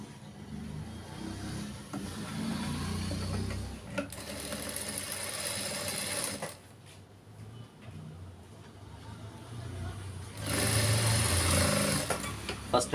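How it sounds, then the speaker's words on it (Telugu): Sewing machine stitching the neckline of a boat neck blouse: bursts of steady rapid mechanical whirring with short pauses between runs, while someone talks throughout. "ఇప్పుడు నేను నెక్ పల్సం వేసేస్తానండి"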